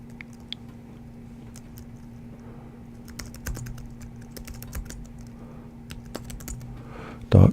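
Someone types an email address on a computer keyboard, a steady patter of quick, light key clicks close by with a few louder taps, over a constant low electrical hum.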